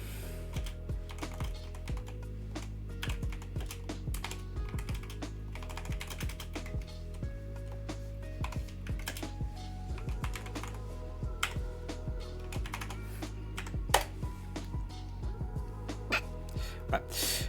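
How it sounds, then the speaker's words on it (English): Keys clatter on a computer keyboard in a fast, steady, irregular stream of close clicks lasting the whole stretch, with a low steady hum beneath and no talking. "I'm typing in Discord right now"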